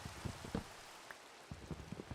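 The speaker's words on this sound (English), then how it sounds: "Oh, now it's raining." Rain falls in the Minecraft video game, a soft steady patter of scattered drops heard alone at low level without any talk.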